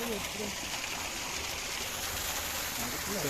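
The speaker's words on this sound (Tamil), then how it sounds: "அப்படியే மேலே தண்ணி வருது அப்படியே ஒழுகி வர்றது" Water flowing and trickling down at a tea estate, a steady broadband wash running the whole time with a voice speaking faintly underneath.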